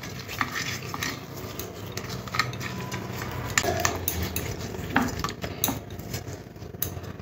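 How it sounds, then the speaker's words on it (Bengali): Salt and turmeric being rubbed by hand onto fish pieces for a Bengali fish curry, with soft wet squelching and scattered clinks and taps against a bowl, close and fairly quiet. "মাছগুলোর গায়ে ভালো করে নুন আর হলুদটা মাখিয়ে নিতে হবে"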